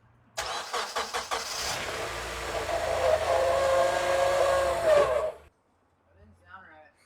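A Honda Element's engine cranks and catches, running roughly and loudly for about five seconds before shutting off abruptly.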